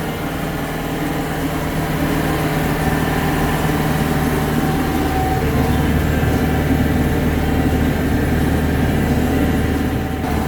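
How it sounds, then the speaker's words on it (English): Old Branson tractor engine held at full RPM with the PTO engaged, a steady loud droning rumble with constant mechanical vibration that never changes pitch across the whole stretch, no voices over it. "now that I'm running it at full RPM, I think this one's louder than the new one"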